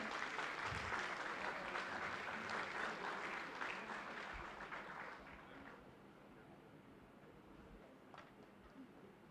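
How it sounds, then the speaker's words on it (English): Audience applause at a summit, a dense steady clapping that fills the room, then thins and fades over several seconds into quiet room tone with a few scattered claps. "a huge round of applause to the gentleman who just took us to the future"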